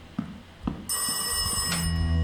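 A telephone in the horror game Rise of Insanity begins ringing with a steady electronic trill after a few soft thuds, clear and sustained without voices.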